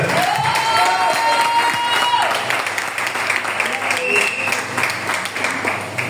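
A church congregation at a Sunday worship service applauds, loud sustained clapping from a crowd with voices calling out over it.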